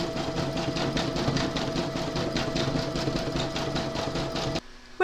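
A sewing machine stitches candle wicking detail onto a fabric bag in grey thread, running steadily and close with a dense, rapid mechanical rattle, then stopping abruptly near the end.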